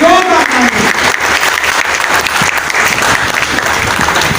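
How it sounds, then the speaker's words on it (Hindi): Loud, dense applause from a large crowd at a Karni Sena national executive gathering, sustained steadily from start to finish, with a voice briefly audible at the very beginning. "तालियां बजा के"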